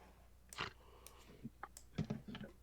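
Computer keyboard typing picked up over voice chat during an online Dragonlance role-playing session: loud, irregular keystrokes and clacks in small bursts, close to the microphone, with no one talking.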